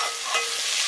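Onion, carrot and capsicum stir-fried in oil for chowmein, a short burst of loud, continuous sizzling with a quick stirring scrape, heard up close.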